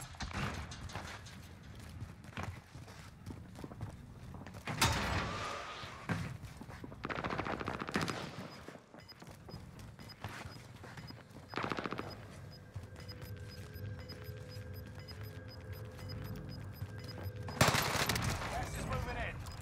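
Gunfight in the Warzone game: bursts of rapid automatic gunfire and scattered shots over about twenty seconds, with loud spikes between quieter stretches, mixed with a constant game soundscape and some talk.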